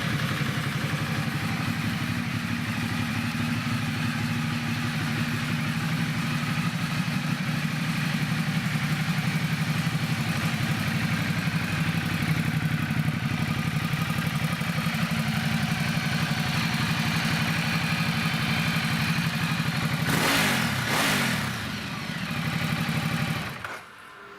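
A used Ducati Multistrada 1200S touring motorcycle with 18,355 miles, in good running order, idles steadily and close up with a mechanical clatter. A brief change in engine note comes near the end.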